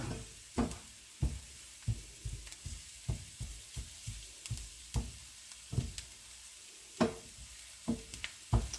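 Chopped vegetables with garlic fry in a pan over medium heat while being stirred, giving a quiet, steady sizzle broken by repeated soft knocks and scrapes of a utensil against the pan.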